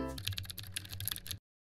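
Rapid typing on a computer keyboard, a quick dense run of close clicks lasting just over a second before stopping abruptly.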